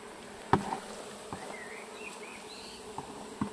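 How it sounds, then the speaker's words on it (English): Bees buzz softly around, their drones rising and falling as they fly past, with a few faint knocks in a quiet outdoor setting. "There's still loads of bees over there."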